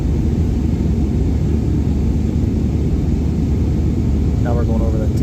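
Allegiant Airlines airliner cabin roar just after takeoff from St. Pete-Clearwater, a steady broadband engine and airflow rumble that fills the whole stretch, loud and unbroken, with a faint brief chirp near the end.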